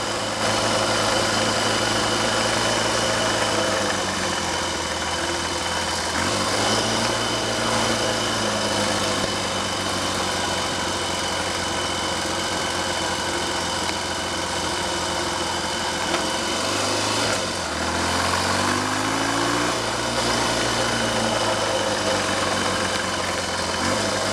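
A Triumph/Royal Enfield Trifield 500 trials motorcycle engine with newly sorted clutch and carburation runs close by, its steady idle rising and dipping in pitch a few times as the revs are blipped, with no voices.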